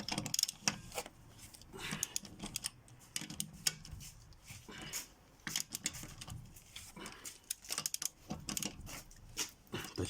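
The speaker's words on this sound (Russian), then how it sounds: "Итак, срываем болты." A wrench breaks loose the stabilizer link nuts on a Suzuki Grand Vitara, giving irregular ratcheting clicks and metallic creaks close by at a moderate level, with short pauses between bursts.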